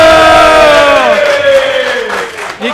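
A live audience at a whisky distillery tasting cheers and whoops loudly, a sustained crowd roar with rising voices near and full, tapering slightly toward the end.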